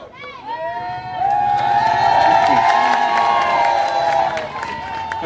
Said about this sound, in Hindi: तालियों से गूंज जाए मंच हमारा